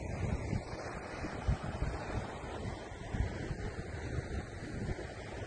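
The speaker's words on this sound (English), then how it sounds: "showing some of the tsunami waves hitting the coastline" Tsunami waves strike the coastline of the Kuril Islands or Kamchatka Peninsula with a continuous broadband roar of surf, mixed with buffeting wind noise on the microphone and no voices.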